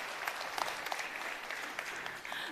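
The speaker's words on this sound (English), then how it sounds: "Give him another round of applause" Audience applauding a speaker at a live event: a sustained wash of many hands clapping at once, fairly distant and even, holding steady throughout with no talk over it.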